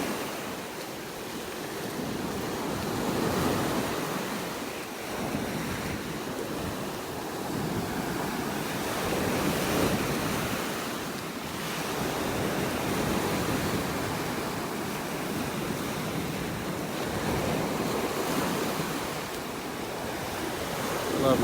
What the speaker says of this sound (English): Love watching the waves come crashing in under these trees.